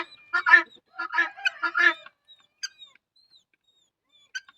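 Several short, raspy clucks and squawks from chickens come in a quick burst, then a few sparse calls trail off into quiet, outdoors in snow.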